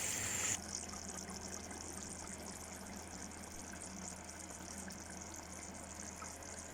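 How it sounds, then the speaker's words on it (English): Water is poured into a pot of Afghani chicken pulao, a soft continuous trickling and gushing wash that stays faint and steady after a brief louder opening burst. "I'm adding 500 milliliters of water,"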